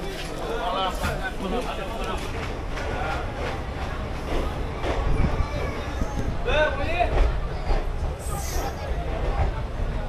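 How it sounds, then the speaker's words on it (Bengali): Busy Rampurhat railway station platform during a short stop of the Kanchanjunga Express, with passengers boarding and alighting amid a constant crowd babble, nearby voices and shuffling footsteps. "তো দেখুন এই হচ্ছে রামপুরহাট স্টেশন, মানুষ ওঠানামা করছে"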